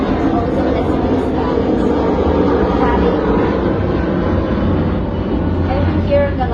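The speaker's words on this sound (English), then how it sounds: "I've been hearing a lot of planes." Broad, steady rumble of airplanes passing overhead, a continuous low roar holding level for the whole stretch with no break, heard outdoors during a gentle yoga class.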